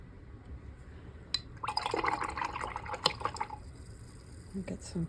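Clean water splashes and trickles into a container for rinsing a watercolor paintbrush, a short burst of liquid pouring with drips and a faint clink near the end.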